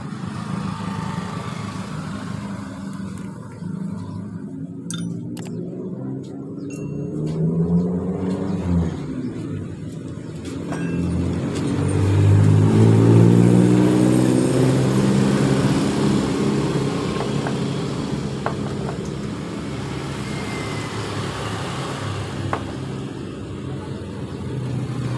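A Honda Supra X motorcycle engine with a rough, rattling internal noise runs steadily close by, its throb swelling slightly midway before settling back, with faint clicks and no talk.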